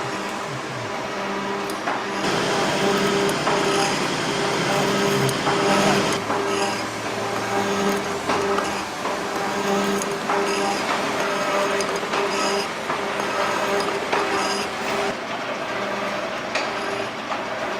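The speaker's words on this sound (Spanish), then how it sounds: "Ya está el Cepillo Cincinnati a todo dar" A Cincinnati metal planer running at full speed in a machine shop, giving a steady loud mechanical drone with repeated clanking and ratcheting strokes throughout.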